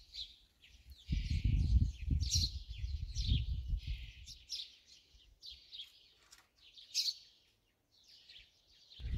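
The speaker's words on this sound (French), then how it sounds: "on n'entend que les petits oiseaux" Small birds chirp and tweet in a calm, peaceful rural spot, a scattering of light calls at moderate distance, with some low rustling handling noise early on and otherwise near silence.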